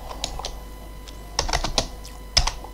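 Keystrokes on a computer keyboard while naming an entry in structural design software: scattered clicks with short pauses and a few louder taps, close up and with no talk.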